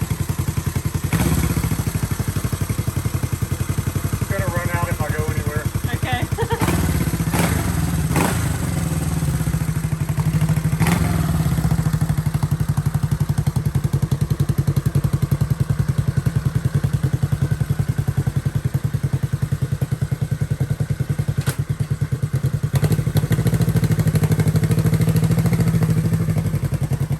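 A vintage Honda CB450 motorcycle engine runs steadily nearby with a low, continuous throb. Intermittent clatters and thumps from handling interrupt it, and no one speaks.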